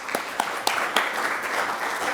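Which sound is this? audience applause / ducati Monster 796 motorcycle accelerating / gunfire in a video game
audience applause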